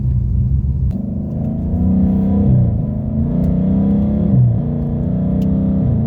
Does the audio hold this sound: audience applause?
no